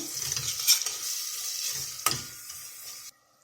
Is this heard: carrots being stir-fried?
yes